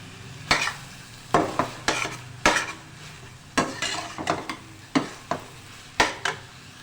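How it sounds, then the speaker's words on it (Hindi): Poppy seed paste and egg stir-fried in a pan for khashkhash chutney, with a spoon scraping the pan in irregular bursts over a soft sizzle, close up and without voices. "देखिए अब इसे हम अंडा डाल के खूब अच्छे से भुनाई करेंगे"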